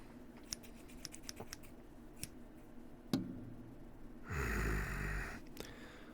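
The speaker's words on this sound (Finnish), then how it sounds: "no se on sakset tietenkin" Scissors are handled up close in a quiet ASMR setting, giving soft intermittent clicks and ticks, then a short louder rustling burst near the end.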